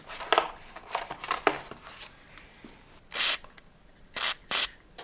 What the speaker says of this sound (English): I've just put a bit of penetrating oil on a couple of larger bolts.